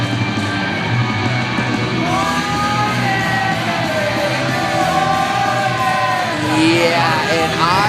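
A large wrestling crowd yelling and jeering at a returning wrestler, a loud sustained roar of many voices with whoops and shouts rising toward the end.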